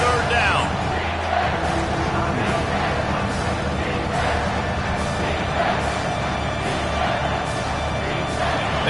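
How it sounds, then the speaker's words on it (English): A roaring football stadium crowd cheers behind the defense on third down, a loud continuous roar with sharp bursts of noise, while an announcer talks over it. "Decibels rising as the crowd gets behind this defense on 3rd down"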